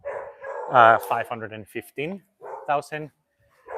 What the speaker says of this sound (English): Here next door we have a little puppy barking